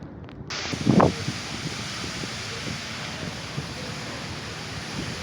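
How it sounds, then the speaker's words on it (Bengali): Strong cyclone wind blows across the Buriganga river bank at Sadarghat in Dhaka, a constant roaring rush of air against the microphone. Water noise and brief gusty bumps sit beneath the roar. "ঢাকাতে এখন পর্যাপ্ত ঝড় বাতাস হইতেছে বুড়িগঙ্গা নদীতে।"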